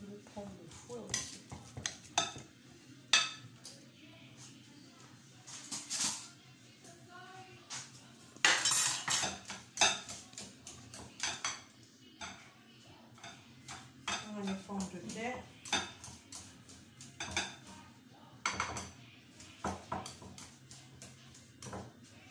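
Potatoes mashed in a pot with a utensil, giving close, irregular metal clanks, scrapes and knocks against the pot, with one louder burst of clatter midway.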